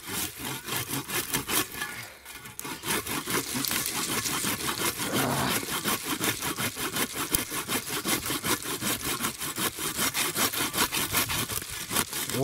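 Blunt hand saw cutting wood in a garden, a steady rapid back-and-forth rasping with even strokes, close and continuous with a brief pause near the start.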